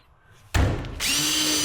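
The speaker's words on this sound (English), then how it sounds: "drill away." A power drill starts with a sharp burst and bores into a wooden log for a bench, settling into a steady, loud whine as the bit bites into the wood, close up and with no talking.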